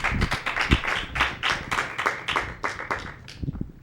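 Audience applauding a student contestant at a playoff event: a few close, uneven hand claps in choppy bursts lasting a few seconds, loud and alone with no voices.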